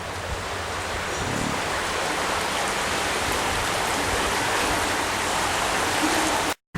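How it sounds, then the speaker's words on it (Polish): Wilga river, muddy and swollen after rain, rushes past steps below a residential estate, giving a steady, loud broadband water roar close by that cuts off abruptly at the very end. "Szedłem po tych schodkach jestem nad rzeką Wilgą."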